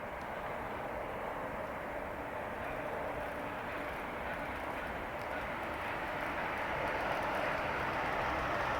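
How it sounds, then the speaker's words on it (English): Russian jet airliner climbing away after takeoff, a broad steady roar heard from a distance that holds constant and swells slightly toward the end, with no voices. "that was the Russian jet, plus a whole bunch of other planes"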